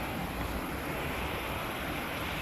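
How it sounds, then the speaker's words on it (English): A small waterfall and stream on a walk to Bob's Cove give a loud, steady rushing wash of water, close by and continuous with no voices. "Little waterfall and stream here on our walk to Bob's Cove."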